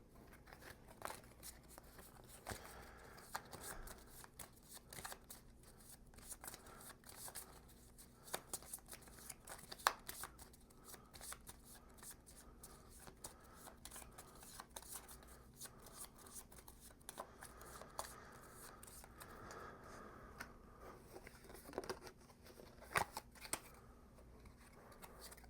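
Soft, quick riffling and flicking of playing cards being shuffled, in repeated short bursts, quiet and close.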